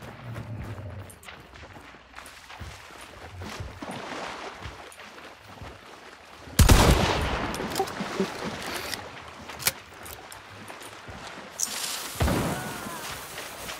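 Gunshots in the multiplayer shooter Hunt: Showdown: a sharp blast near the middle followed by scattered pops and another burst near the end, over faint ambient game sound with no talk.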